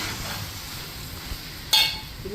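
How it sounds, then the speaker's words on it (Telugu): Rice is being fried with chicken and prawns for pulao in a pot, giving a steady low sizzle. A sharp metallic clink from the stirring utensil breaks through near the end. "బాగా ఫ్రై చేయాలి బాగా ఫ్రై చేయాలి"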